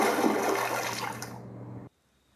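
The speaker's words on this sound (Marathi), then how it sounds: "जशी कळशी पाण्यात बुडली" A water pot plunges into a well, a loud rushing gush of water that churns for under two seconds and then cuts off abruptly into near silence.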